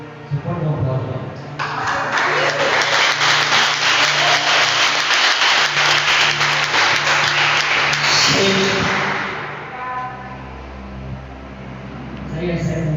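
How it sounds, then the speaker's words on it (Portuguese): A church congregation at an Assembly of God service in Amazonas applauds loudly and steadily for several seconds, then the clapping fades and talking resumes. "Você pode dar um aplauso lá?"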